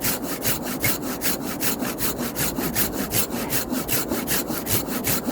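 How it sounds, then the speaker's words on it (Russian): A handsaw cuts through wood in steady, rhythmic back-and-forth strokes, close and loud, with no talking. "Почти до половины, наверное, уже распилил."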